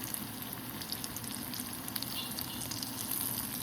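Dal, onion and peas frying in a kadai, a steady soft sizzle with faint crackles and occasional stirring, fairly quiet and close with no talk.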